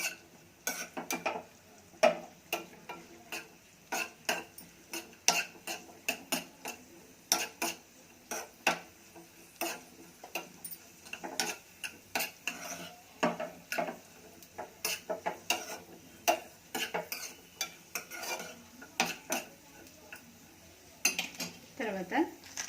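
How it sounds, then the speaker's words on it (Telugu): Cashews fry in a pan for kesari bath while a utensil stirs them, producing quiet, irregular scraping clinks and taps against the metal, with a faint voice now and then. "జీడిపప్పు, కొంచెం వేగాలి."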